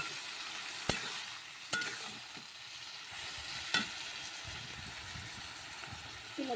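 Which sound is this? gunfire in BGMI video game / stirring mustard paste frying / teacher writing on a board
stirring mustard paste frying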